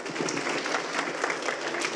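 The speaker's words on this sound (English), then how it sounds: "Give him a big round of applause, please." Audience applause for a speaker at a community family trivia night, a steady dense wash of many hands clapping at moderate level throughout, with no clear voices on top.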